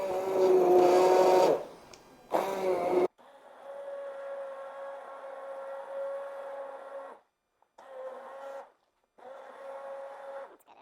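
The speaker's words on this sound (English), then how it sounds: "just take your immersion blender and just kind of run it once or twice around" Immersion blender whirring through potato leek soup: a steady motorized hum held for several seconds, then two shorter pulses, preceded by a louder, rougher burst of blending.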